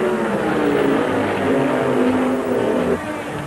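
Race car engine running steadily at the 1979 Indy 500, a loud, continuous droning roar that holds level before dropping slightly near the end.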